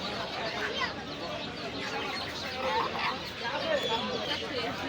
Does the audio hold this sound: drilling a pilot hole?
no